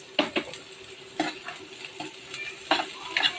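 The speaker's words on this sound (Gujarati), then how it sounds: "હવે હું ગાજર અને કેપ્સિકમ બંને એક સાથે એડ કરું છું" Chopped carrots and capsicum sizzle in a pan for vegetable masala oats, with soft frying hiss under several distinct scrapes and clinks of a spatula against the pan, no talk.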